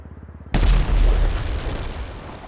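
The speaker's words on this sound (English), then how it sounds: "Immediately after, a small explosion detonates right over your character's head." A small explosion bursts right over a character's head in GTA 5, a sudden loud boom that follows a soft rhythmic ticking and then rumbles and decays over the next two seconds.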